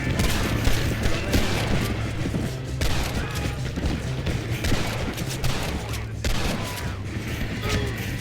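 Gunfire in a shootout in Red Dead Redemption, repeated loud bursts and cracks over a busy, dense game soundscape with a low steady hum, hard sharp onsets standing out every few seconds.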